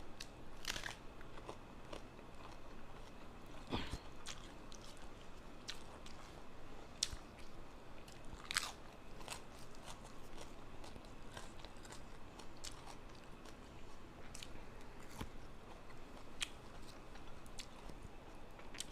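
Someone eats sour bamboo shoot curry with fish, with close, quiet chewing and crunchy bites, soft clicks and squishy mouth sounds repeating throughout over low background noise.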